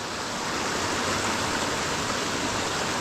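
Mountain stream on the Appalachian Trail near Spivey Gap rushing beneath a trail bridge, a loud, close, steady broadband roar of flowing water with no voices.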